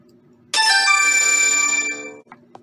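A mobile phone's ringtone suddenly bursts out loud during a Zoom court hearing, a bright melodic chime holding for about a second and a half before cutting off, followed by faint clicks.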